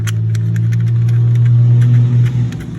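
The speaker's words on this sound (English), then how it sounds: "a loud truck just drove by" Loud truck passing outside a house, a deep rumbling engine close by that swells and then fades over a few seconds, with clicks and rattles over the drone.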